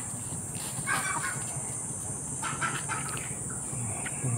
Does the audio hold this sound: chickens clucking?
yes